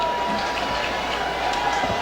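Vocal fans in a college football stadium crowd at an Eastern Illinois versus Hawaii game, a diffuse murmur and scattered shouts filling the space at steady, moderate loudness throughout.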